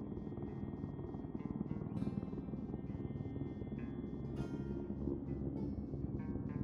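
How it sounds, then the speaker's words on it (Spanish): Helicopter in the video game Project Zomboid, a steady broadband rotor drone with fast rhythmic chopping, continuous and fairly loud throughout, with no talk over it. "Ahí está el helicóptero, ¿eh?"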